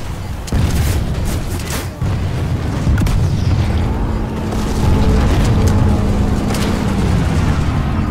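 A generator blows up in a first-person shooter, a loud booming explosion with rumbling debris and continuing battle noise around it, including distant blasts and gunfire.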